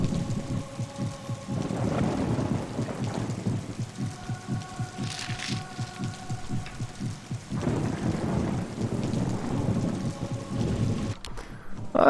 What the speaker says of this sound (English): now you can hear the higher heartbeat